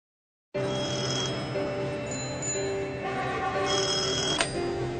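Telephone ringing in a Surf Excel advert, a steady electronic ring tone that runs continuously and loud for several seconds with no talk over it.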